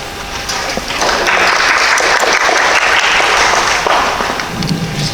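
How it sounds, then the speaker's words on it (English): A school audience at a senior parent night applauds as the guidance director walks onto the stage, with loud, dense, steady clapping that fills the room from start to finish and then fades slightly at the end. "First time I ever got clapped onto the stage."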